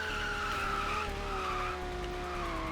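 Tyres squeal in a long, loud, continuous skid as a car slides through a handbrake turn in the Hot Wheels World Race video game, the pitch wavering steadily over engine noise.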